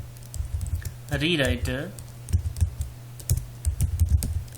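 Typing a project name on a computer keyboard, clusters of close clicky keystrokes in short bursts after a brief spoken word, with a low hum underneath.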